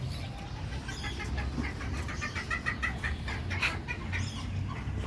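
Chickens at a bird park in Trichy cluck and call in short, repeated bursts over a low background rumble, fairly close and moderately loud.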